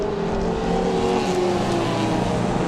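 Race cars in a 750 Motor Club Allcomers race at Rockingham, including Toyota MR2s, roar loudly across the finish line, a continuous dense engine blare with no talk over it.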